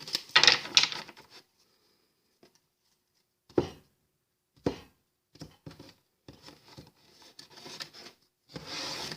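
Tarot cards being shuffled by hand, quick riffling and rubbing bursts at the start, then short scattered shuffles and card taps separated by silence, close and fairly clear.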